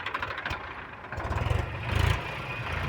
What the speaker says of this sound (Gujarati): ટ્રેક્ટરનો અવાજ બહુ આવતો હશે